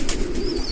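A pigeon coos briefly and softly at close range, a short low murmur with faint high chirps behind it.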